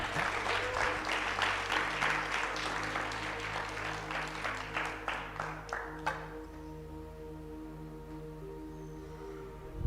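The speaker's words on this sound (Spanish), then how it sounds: "den un aplauso al Señor" A church congregation applauds during an anniversary service, a dense wash of many hands clapping for about six seconds before thinning into scattered claps and quiet room ambience.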